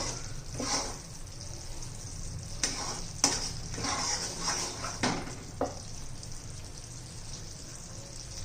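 Sesame and jaggery syrup is stirred in a pan, giving soft scraping strokes and a few sharper knocks of the spoon against the metal over a low bubbling hiss.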